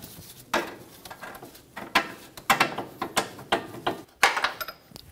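A hand ratchet removing the nut from a front control arm on a 2010-2014 Subaru Outback, with quick bursts of sharp clicking strokes and short pauses between them, close and clear with no talking.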